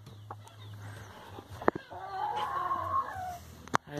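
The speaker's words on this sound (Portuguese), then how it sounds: "Aqui tem um galo de combate aqui, ó." Fighting rooster gives a single crow midway, loud and near, amid quieter clucks and a few sharp knocks in a backyard with other poultry.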